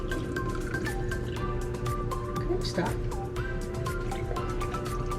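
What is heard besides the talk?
pouring liquid into popsicle molds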